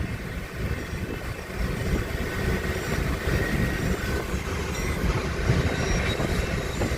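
Siddheshwar Express train in India running at around 125 km/h, a steady close roar of wheels and rail noise filling the whole stretch with no talk.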